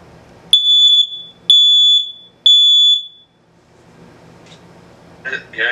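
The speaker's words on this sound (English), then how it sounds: "that high-pitched sound you heard right there was this smoke alarm right here" Three loud, piercing beeps from a smoke alarm, evenly spaced about a second apart, each lasting around half a second, followed by quiet room tone and brief voices.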